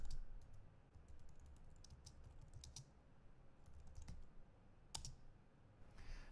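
Typing on a computer keyboard, with quick bursts of light key clicks separated by short pauses, close and fairly quiet over a low background hum.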